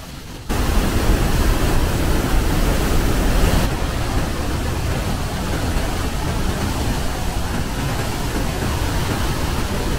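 Rhine Falls waterfall roaring as a dense, steady broadband wash, loud and unbroken throughout with no voices.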